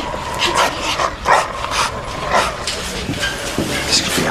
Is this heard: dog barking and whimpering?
yes